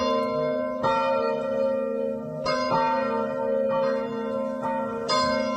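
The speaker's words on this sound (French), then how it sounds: "Le carillon sonne sur Sud Radio, André Berkoff" Carillon church bells ring loud and clear, with several sharp strikes spaced about every second or two over a sustained, resonant hum of overlapping tones.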